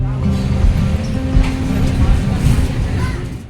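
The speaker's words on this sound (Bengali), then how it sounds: "আমাদের ট্রেনটা কিন্তু হাওড়া ঢুকে গেছে, ট্রেনের গতিও আস্তে হয়ে গেছে।" Train slowing as it pulls into Howrah station, a low rumbling rattle of wheels and carriages, fairly loud and steady, with a voice talking over the running noise.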